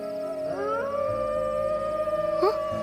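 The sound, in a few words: dog howling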